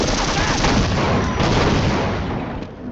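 A grenade detonating in the 1998 first-person shooter Half-Life, giving a loud, dense blast of rumbling noise that fills the whole stretch without letting up.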